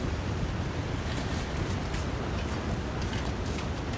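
Waterfall in the video game The Long Dark, a constant loud broadband roar of rushing water that stays steady and close with no break.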